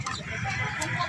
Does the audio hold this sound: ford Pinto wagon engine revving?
no